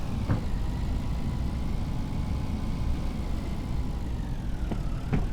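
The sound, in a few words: small tractor engine pulling a tanker, from a farming video game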